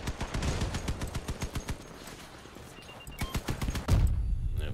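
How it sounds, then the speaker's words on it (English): Cannon and gunfire from vehicle combat in the video game Crossout: a dense, rapid string of sharp, loud shots pounding in quick rhythm, easing briefly before a heavier burst of blasts near the end. "Don't want to eat those cannon shots."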